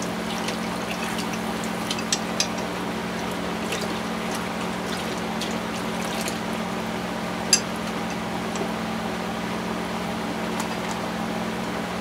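Dissolved nutrient mix pours steadily into a hydroponic rail system, a continuous close watery rush with a low pump hum underneath and a few faint clicks, no talking.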